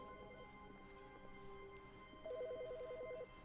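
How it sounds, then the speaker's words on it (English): An in-game telephone in The Stanley Parable rings with a quiet, rapid electronic trill, first briefly and then in a longer burst about a second long, over low ambient hum. "Oh, there's a phone."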